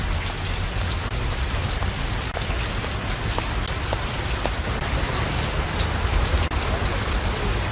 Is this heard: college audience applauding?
no